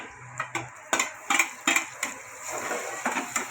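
Chopped tomatoes tipped into a pan of reddened fried onions, with a series of sharp clinks and scrapes of a utensil against the metal pan and a faint sizzle underneath.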